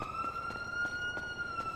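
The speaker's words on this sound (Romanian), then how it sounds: "Nu știu cine a pornit sirenele," Police sirens wailing in the GTA video game, a steady high tone with faint rhythmic pulses over a low rumble of city traffic, continuous and fairly close for the whole stretch.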